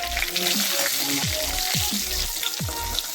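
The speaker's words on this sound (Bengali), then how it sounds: "দিয়ে দিচ্ছি গরম তেলে গোটা গরম মশলা আর একটা তেজপাতা" Whole garam masala and a bay leaf sizzle loudly in hot oil, a steady close crackle with a few sharp pops and spatters throughout.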